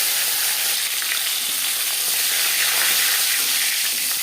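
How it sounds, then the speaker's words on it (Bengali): Katla fish head fries in hot refined oil in a pan, giving a loud, continuous crackling sizzle with a steady hiss and no talk. "4-5 চামচ রিফাইন্ড অয়েল গরম করে নেওয়ার পর দিয়ে দেব মাছের মাথা"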